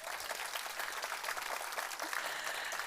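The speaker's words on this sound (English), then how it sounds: "Give her a round of applause." Applause for a jury member at a Nordic female investor meetup: a steady wash of clapping from a seated audience, fairly faint and distant, continuing evenly without talk.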